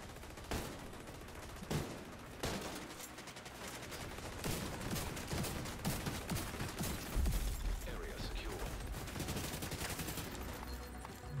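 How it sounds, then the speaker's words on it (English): Sniper rifle shots ring out in The Division 2 video game, a string of faint, sharp cracks mixed with other gunfire and clanking mechanisms, with a voice talking quietly in places. "Oop, he's sniping at me"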